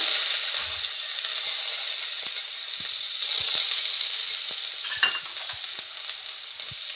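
Onion, curry leaves, mustard seeds, cumin, asafoetida and garam masala sizzle in hot tempering oil, a loud continuous crackling fry with scattered sharp pops and spatters throughout.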